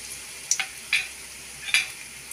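Crushed garlic and curry leaves frying in oil in a kadai for a bitter gourd chilli dish, a soft background sizzle broken by a few sharp crackling spits and stirring scrapes, close by with no talk.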